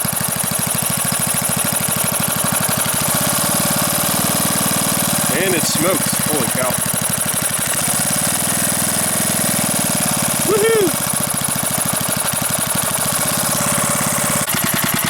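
A small Briggs petrol engine runs steadily with a rough, buzzing idle, while someone talks over it and lets out an excited exclamation.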